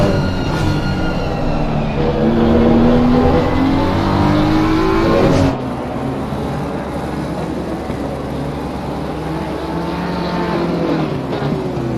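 A Porsche GT3 race car's engine screams loudly at Misano during a 2023 GT3 championship race, a sustained high-revving note that climbs in pitch, then drops abruptly as the car shifts or passes and continues with a steady, slightly lower drone.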